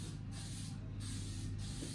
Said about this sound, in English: This is your spray glue.